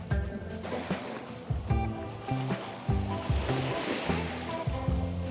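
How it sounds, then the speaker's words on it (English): Ocean water at a Cozumel, Mexico beach laps and splashes around someone wading, with small waves washing in close by and gentle sloshing surges over a rushing background. "we're gonna wade around in the water for a little bit"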